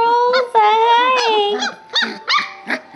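A 3.5-week-old Goldendoodle puppy howls and whimpers up close in a series of high, wavering cries and short yelps, rising and breaking off between calls.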